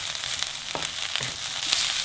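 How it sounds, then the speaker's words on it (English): Mushrooms fry with onions in a hot pan, giving a continuous crackling sizzle broken by a few sharper stirring scrapes, with no voices. "Now we're going to add the 5 or 6 mushrooms, and let's fry that in the meat"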